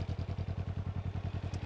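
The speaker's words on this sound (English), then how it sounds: "Confirm, start the bike" Can-Am Ryker three-wheeled motorcycle from BRP with its engine running in a steady, pulsing idle, close by and fairly even.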